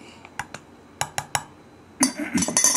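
Metal spoon tapping and clinking against a container while scooping a tablespoon of Aichi-grown kinako soybean flour, a few sharp close taps followed by a busier rattling scrape.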